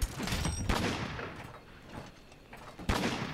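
Rapid bursts of gunfire from a gun in Monster Hunter World, a loud volley at the start, a quieter stretch, then another sharp burst near the end, with no talking.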